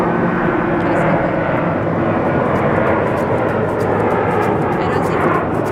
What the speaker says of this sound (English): look, there's a plane!